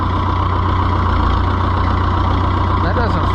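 An Oliver 1365 tractor engine idles and runs steadily nearby, a continuous low rumble throughout while a person talks over it.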